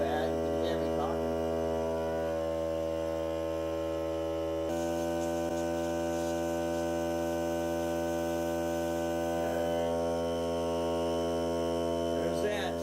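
Continuous steady hum and buzz of a Hart cordless air compressor running its break-in cycle, moderately loud and close, holding an even drone throughout with faint clicks and no speech.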